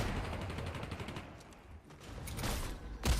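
A sniper shot cracks near the end of a quiet Fortnite match, a single sharp report after a soft stretch of distant battle noise.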